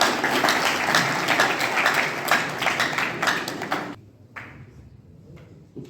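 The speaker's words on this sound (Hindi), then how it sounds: "अपने लिए जोरदार एक बार तालियां बजाएं।" Audience applause at a youth seminar in Srinagar, a loud, dense burst of clapping that cuts off abruptly near the end, leaving quieter room sound.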